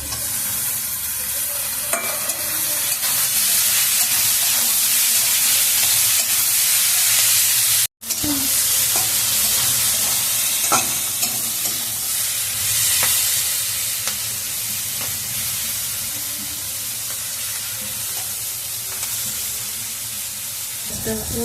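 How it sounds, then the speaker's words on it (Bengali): Onions fry in a pan with grated ginger and chili for a spicy fish curry, giving a loud, continuous sizzle with occasional stirring scrapes over about twenty seconds. "পেঁয়াজটাকে ভালো করে ভেজে"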